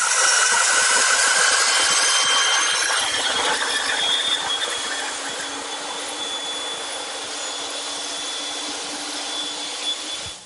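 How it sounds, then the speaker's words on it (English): A woodshop bandsaw cuts away waste material, giving a loud continuous high whine with a steady mechanical hum that eases slightly midway, with no talking. "To remove the rest of the material, I'm turning to my bandsaw."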